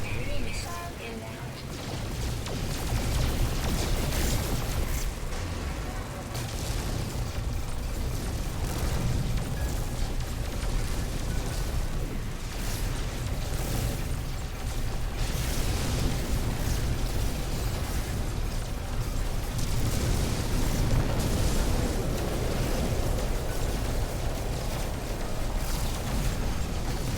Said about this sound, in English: Enemy missile inbound.